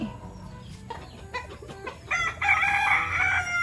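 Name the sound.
rooster crowing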